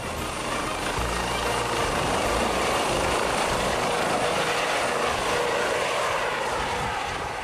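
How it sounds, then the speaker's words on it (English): DLR Falcon research jet flying, a steady broadband engine roar and whoosh that holds constant and loud throughout, with no voices. "The Falcon flies in the exhaust of a large passenger airline"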